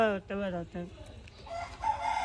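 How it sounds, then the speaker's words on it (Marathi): A rooster crows in a farmyard setting, giving several loud, harmonic bursts in quick succession up close, followed by softer background sounds. "मस्त आवाज कोंबड्याचा"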